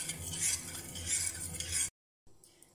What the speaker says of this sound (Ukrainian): всипаємо ванільний цукор, перемішуємо, ставимо на вогонь та розігріваємо